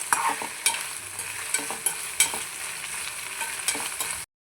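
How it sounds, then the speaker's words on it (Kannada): Onions frying on high heat until golden give a continuous hissing sizzle, broken by sharp clicks and scrapes of a spatula at an uneven pace, close and alone, stopping abruptly near the end. "ಈರುಳ್ಳಿ ಸ್ವಲ್ಪ ಗೋಲ್ಡನ್ ಕಲರ್ ಬರೋ ಹಾಗೆ ಫ್ರೈ ಮಾಡ್ಕೊಳ್ಳಿ."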